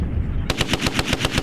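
A rapid burst of machine gun fire during a U.S. Marine live-fire exercise at Camp Fuji, Japan, starts abruptly after a low rumble, and a steady string of loud, close, evenly spaced shots follows.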